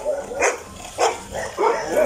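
Three sharp dog barks ring out at roughly even intervals, fairly close, with faint background noise between them.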